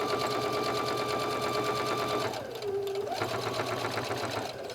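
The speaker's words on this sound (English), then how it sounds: "Stitch all the way around, making sure to tuck in those seam allowances." A sewing machine stitches around the seams of a fabric travel bag, a fast, even rattling hum close to the microphone that pauses briefly in the middle before resuming.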